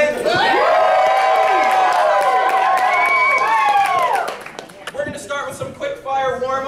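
Charity improv show audience at a Whose Line-style event cheers and whoops loudly with clapping for about four seconds, then fades as a voice starts talking.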